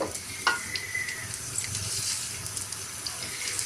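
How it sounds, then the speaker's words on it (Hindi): Onions frying in a pan for a Punjabi biryani korma, a steady close sizzle with water-like hiss and a few brief clinks and scrapes, no talking. "सबसे पहले मैंने इसे प्याज डाले और प्याज को मैं अच्छी तरह से फ्राई करूँगी"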